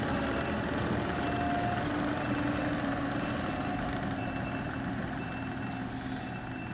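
A skid steer loader doing bucket work on a garage flooding fix gives a loud, constant engine and hydraulic drone, close and unbroken, with faint high tones over it and no voice.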